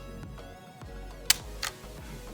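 Two quick mechanical clicks of the shutter of a Canon Canonet QL17 GIII 35mm film camera, a crisp snap followed shortly by a softer one, close up against a steady low hum.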